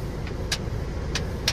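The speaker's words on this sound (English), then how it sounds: "There's a car coming!" A car driving past on a road, a steady low engine and tyre rumble heard from inside a started car, continuous and moderately loud with no talk.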